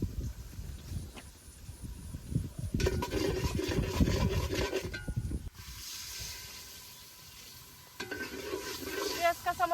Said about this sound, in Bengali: পেঁয়াজ কুচি, কাঁচামরিচ, ছেঁচা রাখা রসুন, সবকিছু ভালোভাবে ভেজে নেই।